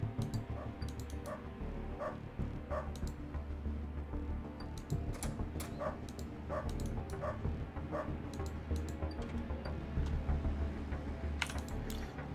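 A dog barking outside a door in the game Underrail, repeated short barks at an uneven pace over a low, steady ambient hum.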